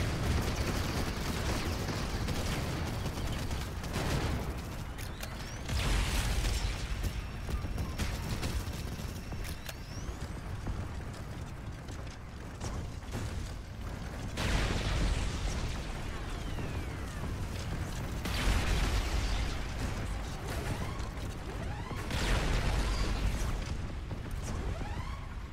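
Chain gun fire and explosions rage in the robot combat game Robocraft: dense, loud bursts of rapid gunfire and blasts come in repeated waves with brief lulls, continuous and close throughout.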